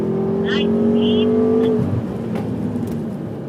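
A BMW M5 on a performance driving school course revs and accelerates, then eases off the gas, its engine tone rising and falling close by while an instructor talks over it with brief tire squeal.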